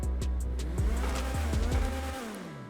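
A car in GTA with an oversized aftermarket exhaust revs repeatedly, the engine note rising and dropping in quick bursts with a tire squeal, loud and close with no talk over it.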